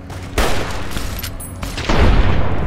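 Gunshots in the video game Fallout New Vegas, in Freeside: loud, close blasts at about half a second and near two seconds, each followed by booming rumble.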